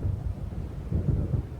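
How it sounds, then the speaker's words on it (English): Thunder rumbles from an approaching storm in the video game Alan Wake, a continuous low, deep roll that swells slightly midway, heavy and unbroken with no talk. "It seems there's a storm coming."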